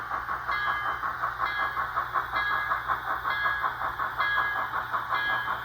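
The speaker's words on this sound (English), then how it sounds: "here comes the presidential train on the 4th of July into Union Station" A presidential train rolls into Union Station on the Fourth of July, its wheels beating a steady, loud clickety-clack rhythm over rail joints while a continuous metallic rumble fills the background.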